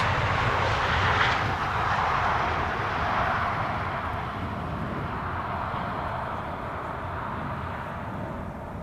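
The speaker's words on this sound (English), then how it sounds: "Hey, Chinese triple is coming overhead." A Chinese Boeing 777 airliner departing Amsterdam Schiphol passes overhead, a loud broad jet roar that swells early and then fades slowly as it moves away, with no talk.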